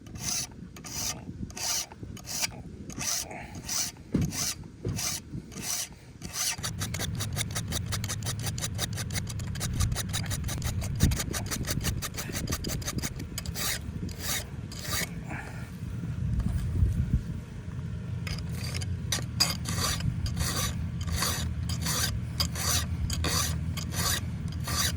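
A round file sharpens the teeth of a 27-inch full chisel chainsaw chain by hand, with continuous close rasping strokes that quicken into a rapid, even run midway and continue without talk.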